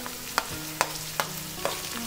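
Chowmein ingredients stir-fried over a high flame, with four sharp scraping clacks of a spatula against the pan at steady intervals over a low sizzle, close and moderately loud.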